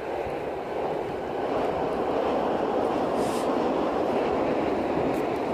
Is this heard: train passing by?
yes